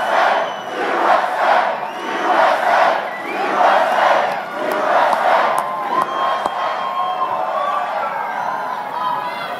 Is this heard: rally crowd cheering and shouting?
yes